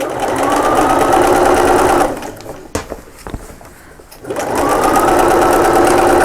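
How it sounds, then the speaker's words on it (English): A sewing machine stay stitching the edge of a fabric pouch runs in a steady, loud whirring burst, stops for about two seconds with a few small clicks and handling noises, then starts up again and runs steadily to the end. "So I'm just stay stitching this other edge now."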